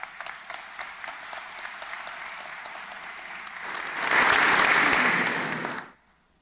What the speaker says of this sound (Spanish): la presencia del doctor Hugo Guerra García, a quien recibimos con fuertes palmas.